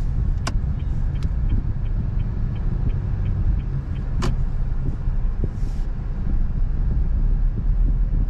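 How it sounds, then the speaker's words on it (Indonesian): A Honda Brio crawls through a traffic jam in first gear, heard from inside as a steady low engine and road rumble with a few sharp clicks and soft ticks over it. "Jalan sini macet, guys."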